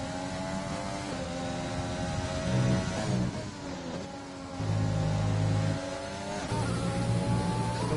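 Race car engines from a PS4 Formula-style racing game at the Austria circuit, a steady loud whine of several cars with rising and falling harmonic pitch as they accelerate and shift, continuous throughout with no talk.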